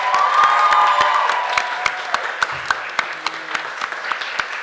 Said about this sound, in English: can we get a big round of applause for the volunteers?